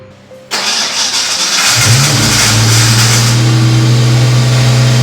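A car engine cranking and starting with a faulty starter that stays engaged and hangs, a loud abrupt whirring start that settles into a steady close-up running drone with a high grinding tone.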